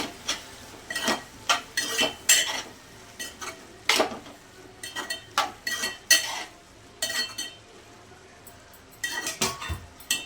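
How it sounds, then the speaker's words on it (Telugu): A spoon stirs turmeric into a cucumber curry in a metal pot, giving a close run of repeated scraping clinks and knocks against the pot, with a faint sizzle underneath. "ఇప్పుడు మొత్తం ఒకసారి అంతా కలిపేస్తాము."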